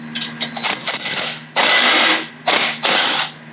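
A ratchet wrench spins off the shock bolts of a mini-bike in several quick bursts of rapid clicking, close and loud, broken by short pauses.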